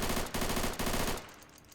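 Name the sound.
WW2 Russian gun firing, ARMA 3 Iron Front mod video game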